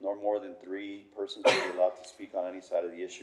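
A single sharp sneeze bursts out midway through a city council meeting on a tax increment reinvestment zone, cutting across a man's steady spoken announcement that continues before and after it.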